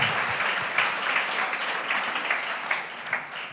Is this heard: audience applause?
yes